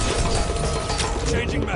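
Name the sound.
magazine reload in the video game Bodycount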